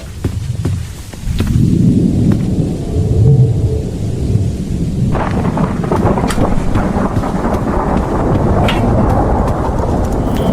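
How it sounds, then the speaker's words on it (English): Wind and rolling thunder in a video game garden: a quiet opening, then a loud, sustained low rumble from about the one-second mark, with gusty noise and scattered crackles continuing to the end, no voices. "Here we can hear the ambient noises of the garden, such as wind and thunder."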